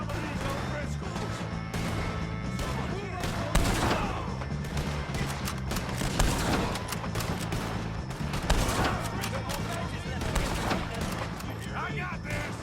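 Gunfire in Red Dead Redemption 2 as Arthur fights off O'Driscolls, with repeated shots and bursts layered over a steady music and battle bed, and voices calling out throughout.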